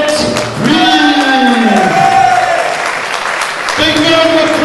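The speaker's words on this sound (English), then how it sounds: "Big round of applause for Mr. Rory Dolan" A crowd applauds and cheers after a cage fight in Leeds, clapping steady throughout while an announcer's amplified voice talks over it.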